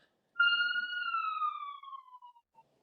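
An emergency siren sound effect played from an iPhone gives a single clear wail that holds, then slowly falls away over about two seconds, with nothing else around it.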